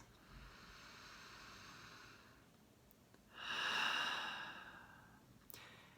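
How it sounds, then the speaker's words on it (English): Slow, deep breaths drawn in and let out alone in a quiet room, a long exhale swelling near the middle before fading, with a soft click at the end. "Maybe take a few deep breaths."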